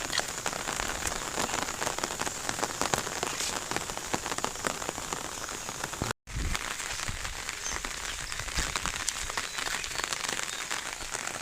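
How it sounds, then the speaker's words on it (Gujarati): Steady, heavy rain pours down in a Gujarat village, a dense unbroken patter on surfaces that stays loud throughout, cut by one brief drop to silence partway through. No voices are heard. "જો મિત્રો વરસાદ કેવો પડે છે"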